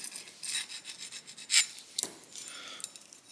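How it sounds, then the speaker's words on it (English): A file rasps along the rough cut edge of a steel brake line for a 1973 Impala, giving quick uneven scraping strokes, close and fairly quiet, with one sharper stroke standing out. "So basically you just kind of filing down the rough edges."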